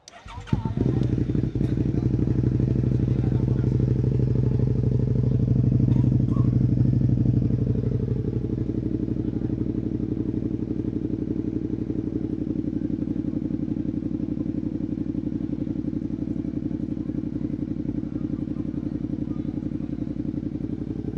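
A Suzuki SV650 V-twin motorcycle idles loudly and close by, with its exhaust giving a steady deep throb and a brief rise in revs early on. The rumble then settles and continues unbroken.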